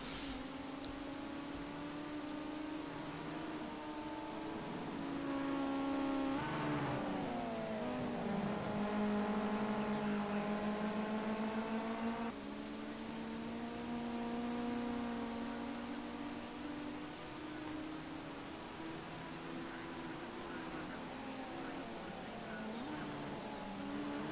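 Ginetta GT5 race cars run out laps around Imola in a racing video game: a steady, continuous engine drone whose pitch rises and falls through gear changes, at a moderate level with no pauses.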